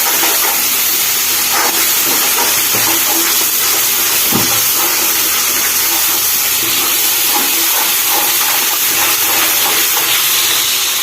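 Masala spices roast in a pan for chole, making a continuous loud hiss and sizzle with faint scraping in the background.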